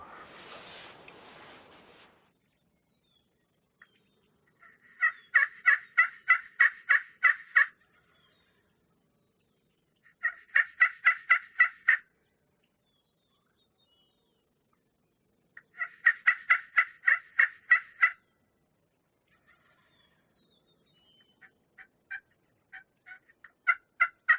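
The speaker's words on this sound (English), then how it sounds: "That gobbler was out there and there was 2 or 3 of them" A wild turkey gobbles in repeated rattling bursts, four clear rounds spaced several seconds apart with quieter gobbles trailing off, over an otherwise quiet outdoor background.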